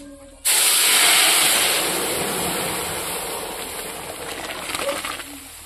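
Dal poured into hot oil tempered with bay leaf, dried red chilli and panch phoron erupts in a sudden loud hiss that starts abruptly and slowly fades into a steady sizzle, close up with no talking.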